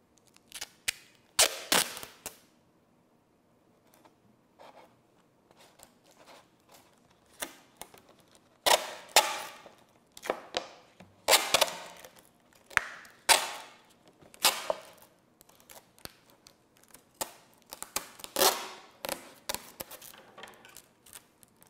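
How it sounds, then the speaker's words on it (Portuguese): Electrical tape pulled off the roll and wrapped around the nose of a homemade model rocket, heard as repeated sharp ripping and crackling bursts separated by quiet pauses. "Vou colocar aqui uma fita isolante,"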